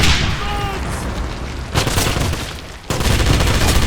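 A grenade blast and gunfire erupt in the shooter game Wolfenstein (2009): loud, dense crackling bursts and booms run throughout, with a sharp new surge near the end, and faint voices in the mix.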